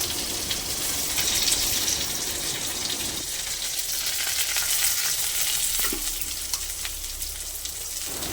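Steady sizzling from a pan on the stove while food is stirred and fried for a sundakkai (turkey berry) dish, a constant broadband crackle with faint scraping, continuous and fairly close, no voices.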